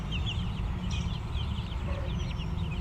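A flock of laying hens clucks and murmurs continuously, many overlapping soft calls close by against a steady outdoor rumble, with no one talking.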